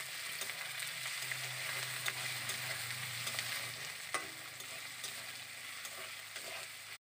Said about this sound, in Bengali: এই আদা রসুনটাকে আবারও পেঁয়াজের সাথে ভালো করে মিশিয়ে ভেজে নেব।